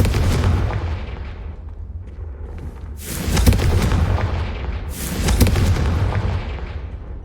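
Blasting fire spell explosions in Hogwarts Legacy, deep booms with rumbling tails, two big close blasts a couple of seconds apart after a softer earlier one.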